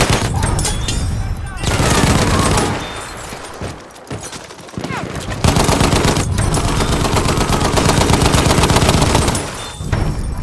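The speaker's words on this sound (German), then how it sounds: "Bin hier auf einen MG gestoßen!" Machine gun fire in the video game Battlefield 1 on the Argonne forest map: loud, dense sustained bursts of rapid automatic shots with brief pauses between volleys, close and dominant.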